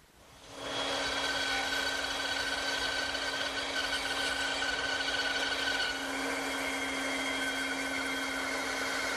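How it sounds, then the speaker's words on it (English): A bandsaw cuts a wooden table leg blank, a steady loud whine with a constant motor hum that begins sharply after a short quiet start and holds for the whole clip, easing slightly near the end. "I'll cut it over at my bandsaw"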